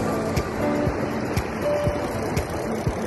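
Ocean surf washes steadily onto the shore at Uilenkraal on a fishing trip, a continuous broad rush with faint clicks and thumps close to the microphone and no speech.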